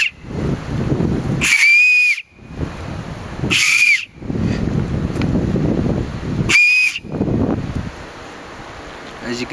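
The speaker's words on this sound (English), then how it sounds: "You're going to place your lips on top of your knuckles and blow into it." An acorn cap held between the fingers and blown like a whistle gives three loud, piercing shrill blasts, each about half a second long, separated by breathy blowing and rustling.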